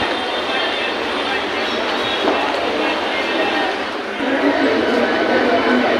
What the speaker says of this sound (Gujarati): હાલો હવે જાય છે ટ્રેન